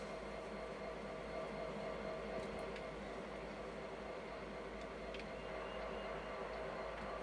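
A train in a video game set near coal mines in Dickenson County, Virginia, rumbles faintly and steadily in the distance, a constant low wash with no voices.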